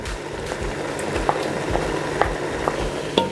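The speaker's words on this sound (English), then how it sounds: "You stir." Dried prawns are stirred through pepper puree frying in a pan, steady sizzle and bubbling beneath a series of light scraping and clinking strokes.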